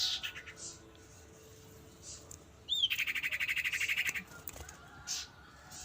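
A young male spotted owlet nestling, still hand-fed, lets out a rapid run of chattering squawks near the middle, with scattered fainter calls before and after.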